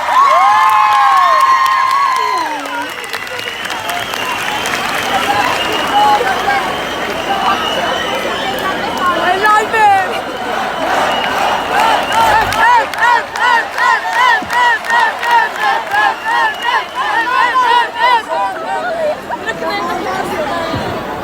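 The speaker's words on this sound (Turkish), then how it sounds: "Ay alkışlayın, çok alkışlayın." A crowd roars and cheers after an on-stage marriage proposal at a live concert, with excited shouting and babble throughout, later turning into rhythmic chanting voices over a constant dense murmur.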